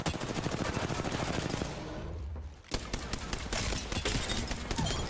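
Fast automatic weapon fire in Apex Legends, dense rattling bursts close and loud, a brief lull and then a sharp shot before the rapid fire resumes, with no talk.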